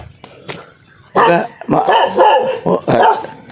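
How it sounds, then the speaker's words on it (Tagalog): A dog barks loudly and close by, a rapid burst of several sharp barks after some quieter shuffling. "Galit yung aso."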